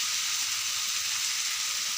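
Ridge gourd and potatoes sauté with spices in a pan for a rui fish curry, giving a steady, even sizzle that stays close and continuous with no talking.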